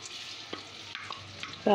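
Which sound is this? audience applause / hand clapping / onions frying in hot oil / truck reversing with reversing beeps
onions frying in hot oil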